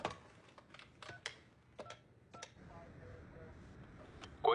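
A quick series of short telephone keypad tones in the Hindi dub of the film Den of Thieves, about a dozen beeps in an uneven rhythm, fairly close over a quiet background.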